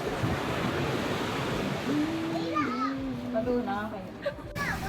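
Sea waves wash onto a beach in Samar in the Philippines, a steady soft surf roar with wind noise, while children and adults talk over it.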